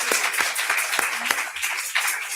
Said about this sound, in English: all a round of applause.